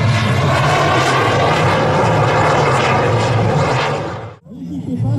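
A propeller airplane performing at an air show roars loudly and steadily overhead, then cuts off abruptly before a fainter rumble returns.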